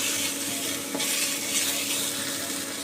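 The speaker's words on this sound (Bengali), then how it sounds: "দিয়ে ভালো করে এই সমস্ত সবজির সাথে একটু নেড়ে নেব" Pumpkin stirred with mixed vegetables in a hot pan, producing a dense continuous sizzle with scraping and shuffling from the stirring, close and fairly loud.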